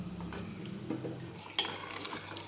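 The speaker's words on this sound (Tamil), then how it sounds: "அடுப்பில் வச்சு கிண்டி விடணும்." A spoon scraping and stirring milk in a pan over medium heat, soft continuous swishing with one sharper metallic clink, close up and fairly quiet.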